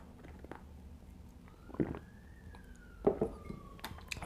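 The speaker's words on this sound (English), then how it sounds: "There's always a siren going off when I do these videos" A distant siren wails faintly in the background, rising and falling, with a few soft thumps and clicks nearby.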